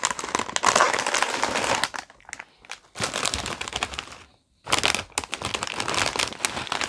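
Plastic packaging of an Old El Paso nachos kit being opened: loud, close crinkling and crumpling in bursts with short quiet gaps.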